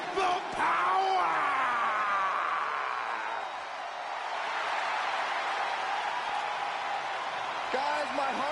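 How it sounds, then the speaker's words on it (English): An arena crowd in the wrestling game WWE 2K20 cheers and applauds steadily in a loud, sustained roar that swells and eases, with a voice speaking over it briefly. "Clap for your longest reigning tag champs and feel the power."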